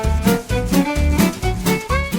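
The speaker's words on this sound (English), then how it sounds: "If it sounds like this show is rattling, it's because we're in a car, driving the back roads west of Grand Lake Stream" A car driving on rural back roads west of Grand Lake Stream, Maine, with loud, rhythmic rumbling jolts and rattles repeating roughly twice a second, close and dominant.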